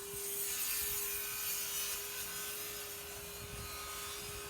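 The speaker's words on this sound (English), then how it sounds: "power planing them down" Power planer shaving down bumpy, curly stranded lumber beams, a steady continuous whining roar with a constant motor hum throughout, close and unbroken.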